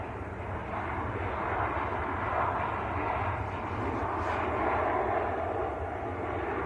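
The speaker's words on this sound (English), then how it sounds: "Ryanair from Warsaw just about to touch down." A Ryanair airliner from Warsaw comes in to land at Manchester Airport, a broad continuous jet roar that holds steady and loud throughout, with no talking over it.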